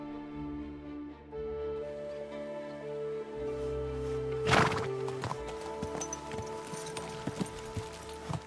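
A horse neighing and clip-clopping, a loud whinny rising from a quiet start, then a scatter of close hoof knocks and clatter as it moves about.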